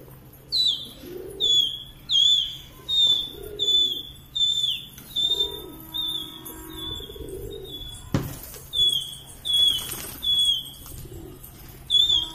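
Repeated bursts of wing flapping from Hyderabadi pigeons, roughly every second, with a steady high chirping and soft cooing in the background; no talking.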